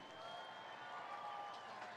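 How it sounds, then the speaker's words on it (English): A crowd in the grandstand at a county fair demolition derby applauds, producing a faint, steady wash of clapping and cheering heard from a distance. "give a big round of applause for the drivers"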